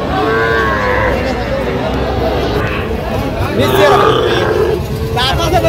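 Young bulls and other cattle at a livestock market moo loudly and repeatedly nearby, with buyers and sellers talking over them.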